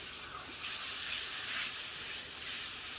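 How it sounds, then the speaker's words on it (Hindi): Green chili, salt, turmeric and red chili powder frying in a pan, giving a steady, fairly loud sizzling hiss that swells and eases slightly throughout, with no talk over it. "और सब भुनने दूँगी, मसाले को अच्छे से भुन जाएगा"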